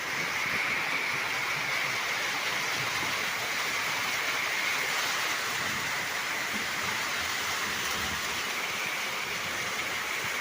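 Heavy rain falling steadily outdoors near an open cooking fire under dark clouds, a dense, even hiss that stays loud and unbroken for the whole stretch with no voices.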